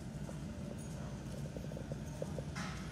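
A horse walks under a rider in a riding lesson, its hooves clip-clopping in a steady, moderately close rhythm over soft footing. A brief brighter rustle comes near the end.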